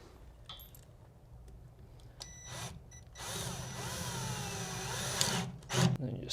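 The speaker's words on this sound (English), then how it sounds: "I'll just take an anchor and drive that right through the cedar shim." A power tool drives an anchor through a cedar shim during a RAM Stratus installation, with a sustained whirring burst after a few faint clicks and taps, loud and close, ending in a short thump.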